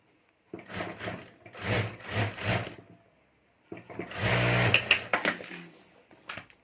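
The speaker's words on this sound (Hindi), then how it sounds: "और यहाँ हमें सिलाई कर देनी है" A sewing machine stitches fabric for a clutch bag, whirring in three runs: two short bursts, a brief pause, then a longer, louder stretch. It sounds close and clear, with no voices.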